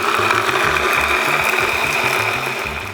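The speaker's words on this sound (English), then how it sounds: "Now we are going to grind this down until it's really fine." A motorized grinder whirs steadily, with a choppy, rattling low pulse as peppercorns and chili peppers are ground fine for piri piri, loud and close with no talk.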